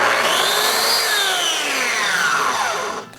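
A Bosch GKT13-225L corded track saw motor starts up loud and close, a broadband whir rising in pitch as it spins up, holding steady, then cutting off abruptly near the end.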